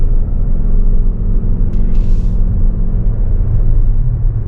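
A 2024 Toyota Venza LE hybrid pulls away from a stop, giving a steady low engine and road rumble with a brief hiss partway through, heard from inside the cabin.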